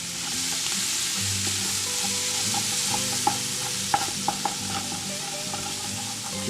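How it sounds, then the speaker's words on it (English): Ground beef frying in a pot with garlic and onion for chili, a loud constant sizzle with a few sharp utensil clicks as it is stirred. "Alright, we're getting ready to add our ground beef."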